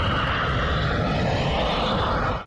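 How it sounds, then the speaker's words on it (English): Jet engines of a Jeju Air Boeing 737 on Flight 2216 run as a loud, steady broadband roar that holds without a break for about two seconds, then cuts off sharply at the end. "the sound of jet engines can be heard during the final sequence"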